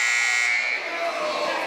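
A loud electronic buzzer ends a period at a high school wrestling dual meet in a gym, one sustained harsh blare cutting off after about half a second into crowd noise and voices.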